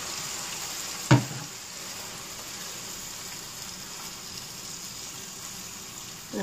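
Chicken legs being added to a pan and frying, with a sharp splash and sizzle as they go in, then a steady low crackle underneath for several seconds, no voices.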